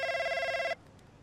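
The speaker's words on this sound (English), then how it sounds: "He's got a different ringtone." Phone ringtone in the F1 25 racing video game, a bright electronic tone ringing steadily and loud, then cutting off abruptly into near silence.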